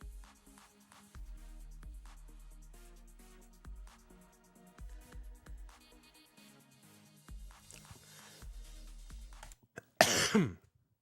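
A single loud cough rings out close to the microphone near the end, cutting off quiet electronic music from a Classic Tetris competition broadcast; no one talks.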